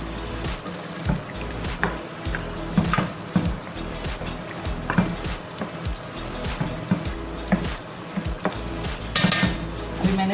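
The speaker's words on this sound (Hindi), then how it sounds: "अब हम इसको कलेजी को इसके साथ भूनेंगे" Kaleji (liver) masala being stirred and fried over a medium flame with onions and tomatoes: a spoon repeatedly scrapes and clinks against the pan over a continuous sizzle, close and busy throughout.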